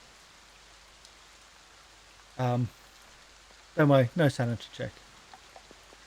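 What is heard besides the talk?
rain falling, ambient effect in tabletop one-shot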